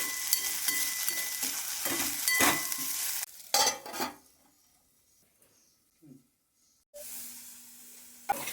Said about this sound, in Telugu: ఆలు మంచిగా ఫ్రై కావాలండి.